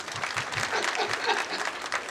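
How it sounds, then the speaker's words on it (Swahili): Applause from the audience at a graduation ceremony, moderately distant and fairly quiet, with brisk uneven clapping that swells and fades over a couple of seconds. "makofi tena"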